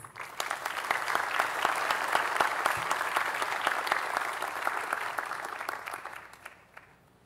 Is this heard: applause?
yes